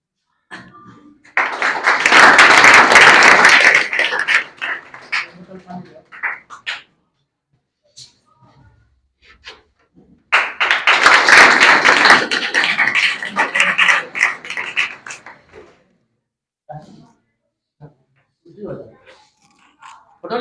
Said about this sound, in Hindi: मारिए जोरदार ताली।